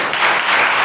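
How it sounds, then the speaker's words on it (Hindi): A church congregation claps together during a worship sermon, producing a loud, brief burst of dense hand clapping with no break. "पहले तो प्रभु के लिए तालियां बजाओ।"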